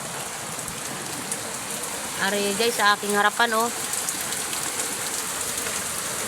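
Heavy rain pours down in a dense, steady hiss while a voice speaks briefly in the middle.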